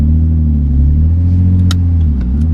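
A car engine rumbles loudly and steadily, close by, as the car strains to pull away with the e-brake still on, with a few faint clicks and no talk.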